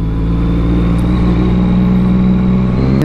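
Heavy traffic on the SLEX expressway, a dense continuous rumble of car engines with steady low droning and a brief passing hiss near the end.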